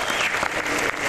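Audience applause at a Disney D23 Expo 2011 presentation about Cars Land, a dense burst of clapping from a large crowd, loud and brief.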